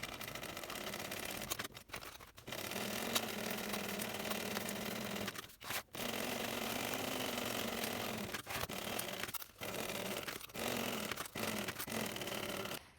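Sewing machine basting a backpack seam at an eighth-inch allowance, running steadily and close with a few brief stops and restarts, alone without talk.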